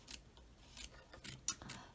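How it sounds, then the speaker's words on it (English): Small appliqué scissors snip along the stitched edges of fabric in a machine-embroidered cutlery holder, a series of quiet, close, crisp cuts at an irregular pace. "I'm going to use my little applique scissors here, and I'm just going to lift gently and just trim right along the edges"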